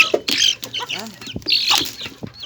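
Pet chickens being fed cluck and squawk close by in a quick, busy run of calls, with some scratchy rustling mixed in.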